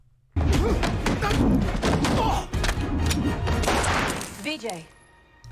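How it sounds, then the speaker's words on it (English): Gunfire from a scene in the TV series Agents of SHIELD: a sudden loud blast followed by a dense, chaotic stretch of thuds and crashes, with voices mixed in and the action fading out near the end. "Why'd he shoot the ceiling?"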